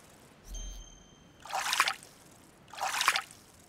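Water trickles and splashes in the Fishing Planet video game, two short broad bursts about a second apart after a faint tonal ding, moderately loud with no talk over them.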